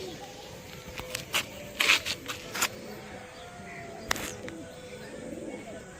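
Pigeon coos sound in short bursts over a low background, several brief calls clustered early, then one more later.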